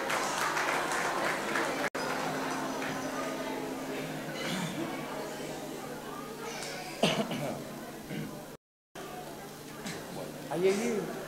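A big crowd at a Terceira Island carnival night applauds a 53-member carnival music group, with steady clapping and cheering running for the whole stretch and a few voices rising through it.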